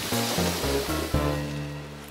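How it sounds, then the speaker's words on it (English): Big cartoon ocean waves crash in a run of rolling surges, loud and close, each swell breaking with a heavy whoosh before the water roars on alone. "Yeah, the waves are great today. They are unusually big."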